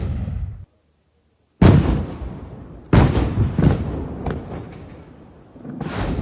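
Controlled detonations of seized explosive devices boom in sequence: a heavy blast, a brief gap, then more deep explosions with rumbling tails and another sharp burst at the end, loud and close.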